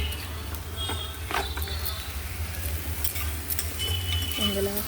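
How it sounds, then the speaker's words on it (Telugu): A tomato and ponnaganti greens curry simmers and is stirred in a pot, producing a steady low bubbling sizzle with occasional scraping stirs, close and moderately loud, with no voices. "టమాటా పొన్నగంటి కూర వేరు ఉడికించాను. ఇప్పుడు కలిపి ఉడికిస్తున్నాను."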